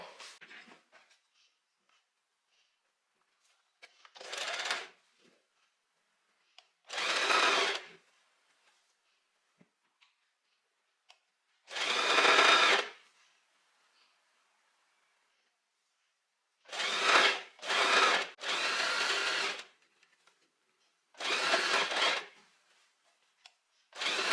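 A sewing machine stitches the hem of a Lucy dress in short separate bursts, about eight runs of whirring separated by quiet pauses, near and alone.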